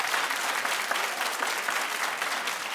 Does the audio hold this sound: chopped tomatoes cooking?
no